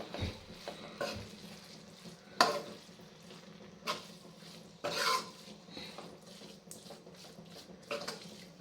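A utensil stirs a healthy mixture in a pan with soft scraping and rubbing, broken by a few sharper clinks and scrapes at irregular moments, quiet and close.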